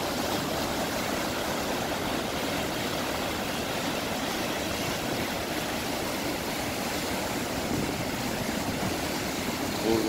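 Niagara Falls on the American side, a steady, dense roar of rushing water that holds constant and loud without a break, with no talk over it.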